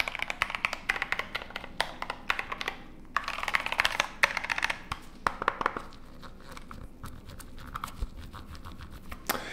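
Typing on a computer keyboard with a partly broken key, clustered bursts of close clicking keystrokes separated by short pauses, no talking.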